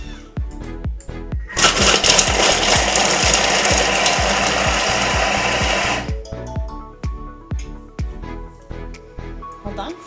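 An electric chopper whirs loudly for about four seconds as it chops carrots and peppers, a steady dense buzz that starts abruptly and cuts off, between sharp clicks and knocks before and after.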